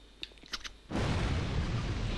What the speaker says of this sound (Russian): Вот эта бочка, по-моему, тоже взрывается.